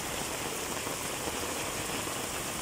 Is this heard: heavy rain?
yes